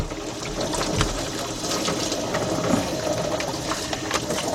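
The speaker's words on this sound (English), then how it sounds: "And then drain into the pan." Coolant from a 2007 Chevy Impala drains out of a hose into a pan during a thermostat job, a steady close trickling and splashing of liquid with no talk.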